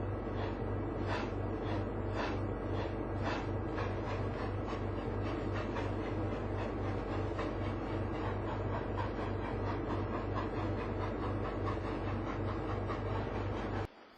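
A train runs steadily along the rails on a snowy line, giving a continuous rumble with a rhythmic clickety-clack of wheels over the joints. It cuts off abruptly at the end.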